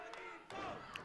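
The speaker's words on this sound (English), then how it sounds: "Very vocal, the crowd tonight." Arena crowd at a wrestling match, a steady roar of cheering and shouting voices with a couple of louder swells, close and continuous throughout.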